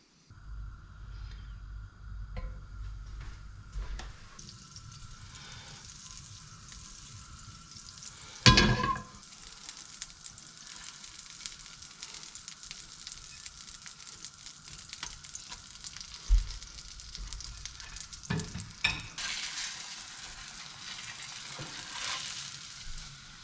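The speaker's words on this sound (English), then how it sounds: "these guys are now ready to go in the frying pan with a little bit of butter, or you can use a bit of oil" Garfish frying in a pan with butter, a steady close sizzle running throughout with a brief sharp clatter partway and a brighter hiss swelling near the end.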